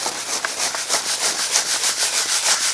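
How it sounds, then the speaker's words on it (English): Cemented gravel is shaken across a quarter-inch mesh screen, giving a rhythmic gritty rasp that sweeps back and forth about five times a second, close and steady with no talking. "What I do is I run it through a 1/4 inch mesh screen."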